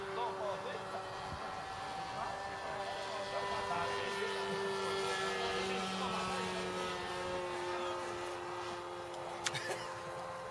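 A size 46 model airplane engine runs continuously at a flying field with a steady, buzzing drone and faint surrounding noise, and no clear talk over it.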